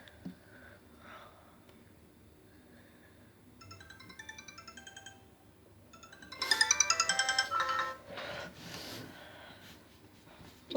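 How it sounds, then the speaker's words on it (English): A 2012 Sony Xperia Go phone running Android Jelly Bean plays a short melodic ringtone, then a brighter, louder chiming tune. Soft breathing and faint handling noises sit in the quieter stretches. "Let's see the ringtones."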